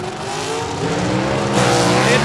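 Gasser drag racing at South Georgia Motorsports Park with a 1966 Chevy II, a loud raw engine roar building in pitch as the car launches, heard close and steady with a commentator talking over it.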